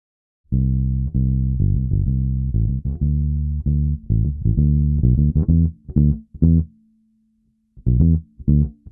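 Bright, punchy bass guitar notes with EQ boosted at 1.5 kHz, played in short separated bursts with a forward midrange edge, one note sustaining briefly before a final cluster.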